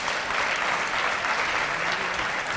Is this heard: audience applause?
yes